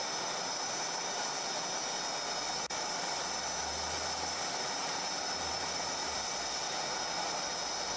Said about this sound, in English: You can see the incredible shape of the F-18 there taxiing back.